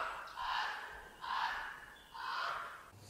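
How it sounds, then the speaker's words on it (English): A black rhino gives three breathy, rasping snorts in a steady rhythm, about one per second, close and moderately loud with no voices. "Number 94 was a black rhino snort."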